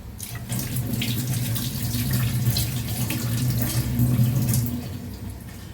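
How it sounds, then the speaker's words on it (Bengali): Water from a kitchen tap runs steadily and close while onions and green chilies are rinsed under it, with a constant splashing rush throughout. "পেঁয়াজ কাঁচামরিচ ধুয়ে নিলাম"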